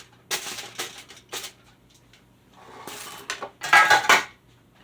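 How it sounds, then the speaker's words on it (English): Aluminum foil is crinkled and pressed into a pan in a few separate bursts of close, crisp rustling and crackling, the last burst the loudest. "so I put my aluminum foil in the pan like this"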